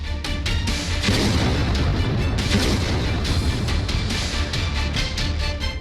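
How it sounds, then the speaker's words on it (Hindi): Heavy explosions and booming blasts from a Ukrainian army attack on a Russian tank, a loud continuous barrage of repeated bursts with no speech. "ये तस्वीरें उस वक्त की है जब यूक्रेन की सेना ने रूसी टैंक को निशाना बनाकर जोरदार हमला किया।"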